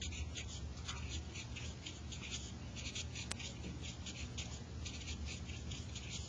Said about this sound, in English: So you write them on top of each other.